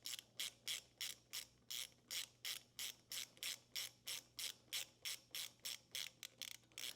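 A hand ratchet clicks through steady, even strokes while tightening bolts on a Feuling external breather being installed on an M8 motorcycle engine, about twenty crisp, close ratcheting bursts over a faint low hum, with no voices.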